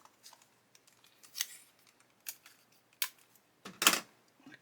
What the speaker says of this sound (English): what I'm going to do is get a bit of masking tape.